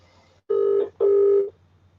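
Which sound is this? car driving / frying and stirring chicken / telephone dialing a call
telephone dialing a call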